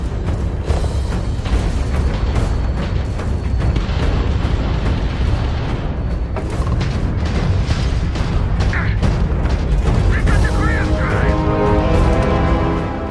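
Enemy spaceships exploding in the space combat of the Starfield video game, a dense, continuous wall of booms and bursts layered over a steady roaring bed, loud throughout with bright crackling flares.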